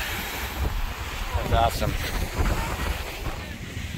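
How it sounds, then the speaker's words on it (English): Strong wind gusts across a microphone on a beach at Bahia Honda State Park in the Florida Keys, a loud, continuous buffeting roar with a brief spoken remark mixed in. "why does it have to be so windy?"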